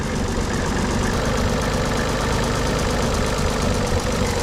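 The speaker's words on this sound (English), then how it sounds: "Never heard a power steering pump make this noise before." Power steering pump on a Nissan 300ZX running low on fluid, a steady mechanical whine and rapid rattling pulse over the idling engine, loud and close.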